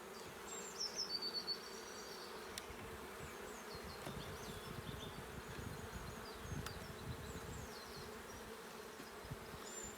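Honeybees buzz steadily around an open hive during a routine late-April inspection, a soft continuous drone with occasional nearer passes of single bees. There is no talking.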